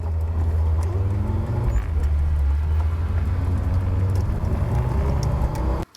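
A campervan drives along a lane into the village of Tintagel, Cornwall, with a steady low engine rumble and road noise throughout, close and continuous until a sudden cut at the end.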